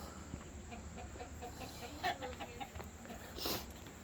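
Chickens in a chicken yard, agitated by people inside the enclosure, give scattered clucks and squawks against a steady outdoor background, with a louder burst near the end.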